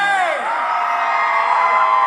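Dense crowd at a live regional Mexican music concert whooping, yelling and cheering together in a sustained, loud roar that swells and holds for two seconds.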